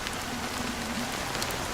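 Fine drizzle of black rain in the Honkai Star Rail game, a steady dense hiss of falling drops with faint patter, continuous and even, with no voices.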